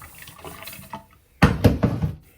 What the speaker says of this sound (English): So I'm just going to put some water in here